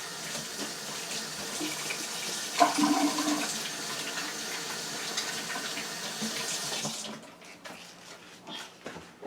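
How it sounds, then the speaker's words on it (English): Tap water runs steadily into a kitchen sink during handwashing, a continuous close rush that cuts off about seven seconds in, leaving faint clatter and handling noises. "Let me wash my hands."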